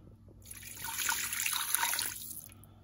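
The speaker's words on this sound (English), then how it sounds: "I've got my chicken stock as well. So let's just pour this into the Ninja." Chicken stock, about 400 millilitres, poured into a Ninja Foodi pressure cooker pot: a steady close liquid pour that swells, runs for about two seconds and then stops, with no talking.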